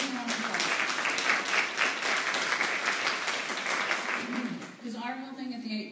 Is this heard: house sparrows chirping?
no